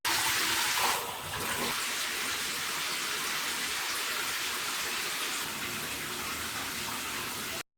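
Cold shower water runs in a steady, loud, broadband spray from start to finish, with a brief change in the stream near the beginning and no talking.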